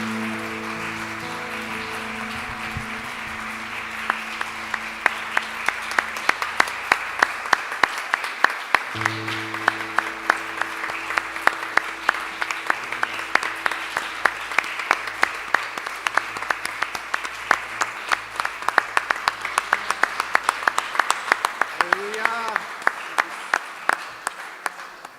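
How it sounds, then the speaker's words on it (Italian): Closing an evening worship service at an Italian church in Verona, the congregation claps, first faintly under sustained organ or keyboard tones, then in a strong, rhythmic unison beat that keeps going to the end. "Facciamo un applauso al Signore per concludere il nostro culto di questa sera."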